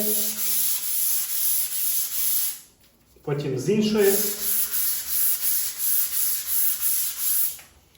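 Rhythmic abrasive scraping of sandpaper on a wall, loud and close, stroke after stroke, briefly pausing while a person speaks.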